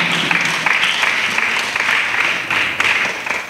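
Audience applause and cheering at a church gathering with a pastor and children, a dense continuous wash of clapping filling the whole stretch at steady loudness with no voices standing out.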